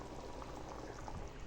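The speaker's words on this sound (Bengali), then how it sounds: "এবার একটু ফুটে উঠলে এটাকে আমরা নামিয়ে নেব" A thin mrigel fish curry with ridge gourd, potato and tomato bubbles steadily in a pot, a soft, even simmering hiss with no voices.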